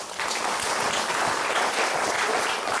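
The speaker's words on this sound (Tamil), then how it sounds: "அவர் கைதட்டுகளை பார்ப்போம்." Applause from an audience at a Tamil religious gathering, a steady dense wash of many hands clapping that starts just after the opening moment and carries on evenly to the end, with no talk over it.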